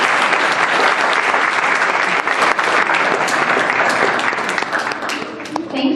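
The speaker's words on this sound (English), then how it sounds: "Can we have a big round of applause for these students?" A seated audience at a scholarship award ceremony gives sustained, dense applause for the students, steady and close, tapering slightly at the end with a few scattered voices.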